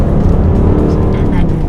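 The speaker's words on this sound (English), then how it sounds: "that growl of the engine is just delicious" A supercharged Range Rover Sport engine growls under hard acceleration, a loud, dense, steady low roar heard close up throughout.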